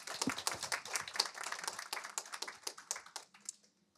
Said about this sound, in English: This is like a round of applause for that alone.